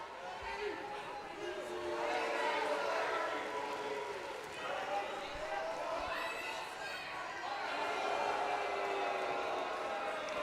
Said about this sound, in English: Mixed reaction from this crowd here.